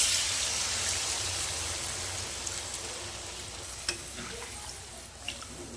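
Hot water poured into a pan of browned, braised chicken for a Bengali whole-spice chicken curry, a steady broadband sizzle and hiss filling the clip, slowly easing off, with a few faint clinks near the end.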